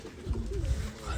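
Pigeons coo softly and close by during an apple cider vinegar bath in a tub, a few low, rounded calls over faint background noise.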